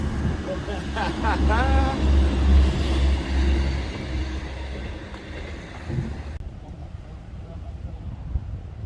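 A train rolls past outdoors near a laboratory site in Mirfield. It makes a loud, steady rumble that fades toward the end, with traffic-like noise and a brief squeal mixed in.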